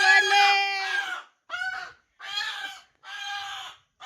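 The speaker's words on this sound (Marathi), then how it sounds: "भावाने कोंबडी पकडले." A chicken being caught in a village yard gives four loud, harsh squawking clucks close by, each followed by a short silence, with no talk.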